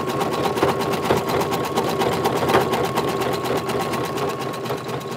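An embroidery machine stitches the outline around a face on a patch meant for a jacket, giving a steady, rapid, close-up mechanical chatter that runs continuously and loudly with no talking.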